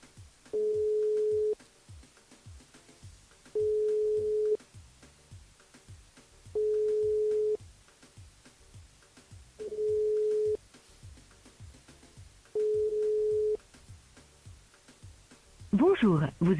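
Outgoing telephone call on a French radio show's phone line, the ringing tone sounding five times in steady, evenly spaced bursts of about a second each, followed by a burst of voicemail greeting at the end.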